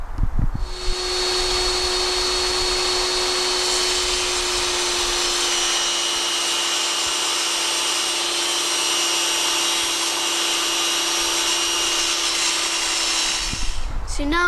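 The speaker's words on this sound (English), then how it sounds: "So now we've cut up all the wood" A power saw cuts a wooden plank into 20 mm strips, a loud, steady whine and roar held for about thirteen seconds at close range, starting and stopping abruptly.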